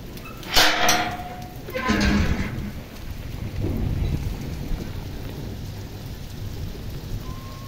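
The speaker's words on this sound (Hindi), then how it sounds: "देख लो कितनी जोरदार बारिश हो रही है" Heavy rain falls in a steady roar while thunder cracks and rumbles in several bursts early on, loud and near, with no talking.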